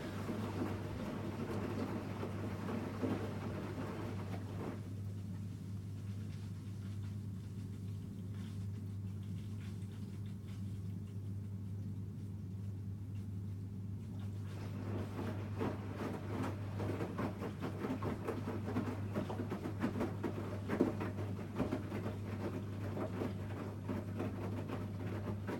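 A Bosch Serie 8 WAYH8790GB washing machine on a SuperQuick 15 cycle turns its drum and drains, giving a steady low hum with a continuous churning, sloshing wash noise that drops away briefly in the middle before returning.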